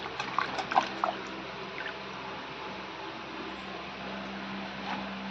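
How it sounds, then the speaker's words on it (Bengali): Something being washed under running water during home preparations for the Maha Ashtami puja. A soft, steady trickle flows throughout, with a few light knocks and clinks near the start. "ধুয়ে নেই একটু।"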